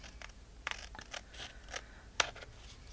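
Scissors trim a paper border piece in a quiet room, giving several soft, close snips and light paper scrapes spaced irregularly over a few seconds.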